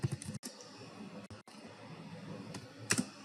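Soft, quiet keystrokes of code being typed on a computer keyboard, with irregular clicks and a couple of sharper taps over faint background noise.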